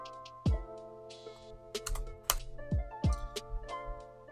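Keys tapped on a computer keyboard while writing Java code, a quick run of close, light clicks with a few sharper strikes and short pauses, heard alone over a faint steady hum.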